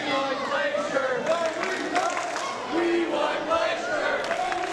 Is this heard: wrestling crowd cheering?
yes